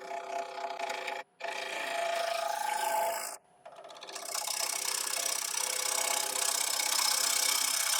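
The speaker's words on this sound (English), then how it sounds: "So now starting again with my 5/8-inch ball gouge." A 5/8-inch ball gouge cuts a live-edge wooden bowl spinning on a lathe, giving a steady scraping hiss with a tonal hum. The cut stops briefly twice, then resumes as a brighter, continuous shaving rasp.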